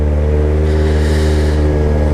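Yamaha XJ6 motorcycle engine running loud and close, a steady throaty drone with a brief swell in revs midway, no talking.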